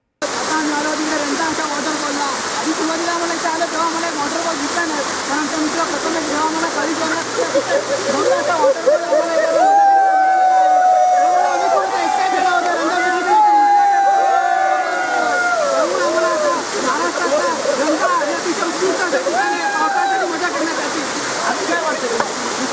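Randha waterfall at Bhandardara roars steadily and loudly throughout, with a crowd of tourists chattering and calling out over the constant rush of water.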